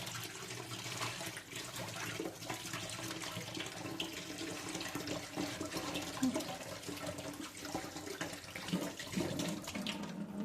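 Tap water runs steadily into a kitchen sink while food is washed, a continuous close splashing rush that carries on without a break and without any talk.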